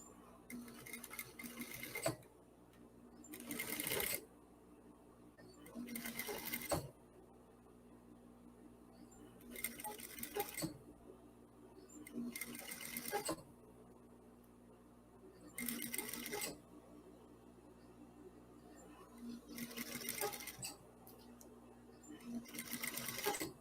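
A sewing machine topstitching finely along a seam edge runs in short repeated bursts with brief pauses, steady and quiet, heard up close with a faint background murmur.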